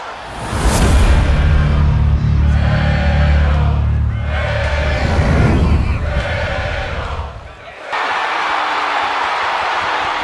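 Loud arena crowd roars and cheers in a WWE 2K22 wrestling event set in New York, a dense continuous wash of noise that swells, dips briefly, then surges back.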